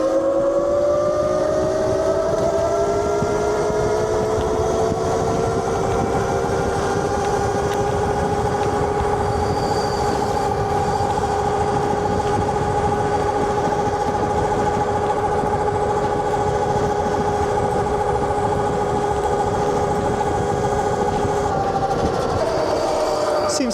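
A HEYBIKE Villain 52V electric dirt bike runs flat out at top speed on mode 3, its steady high-pitched motor whine and wind roar holding continuously and loud for the whole stretch.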